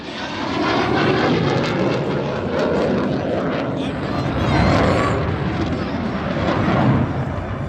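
Roar of an F-16 fighter jet engine during a rehearsal flight in Pakistan, a loud, steady, broad rumble that swells slightly near the middle and end, with no clear talk over it.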